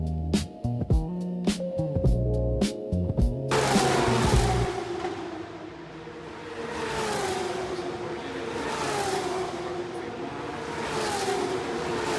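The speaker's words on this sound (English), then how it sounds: "the race cars are quite loud when they pass by" Loud Formula 1 race car engines roar past one after another, a continuous high whine rising and falling as cars speed by, with pulsing bursts at the start.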